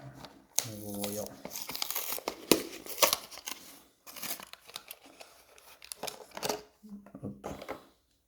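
Plastic packaging of a khaki Dodge Charger miniature car crinkles and tears in bursts of rustling close by, with a person talking between the handling noises.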